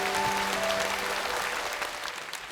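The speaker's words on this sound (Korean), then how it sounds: "여러분 지광 스님을 따뜻한 박수로 맞아주시기 바랍니다." An audience at a memorial arts concert gives warm applause to welcome a Buddhist monk, sustained many-handed clapping that slowly thins toward the end.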